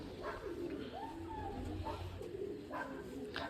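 White pigeons coo in soft, repeated rolling calls close by, while someone talks over them throughout.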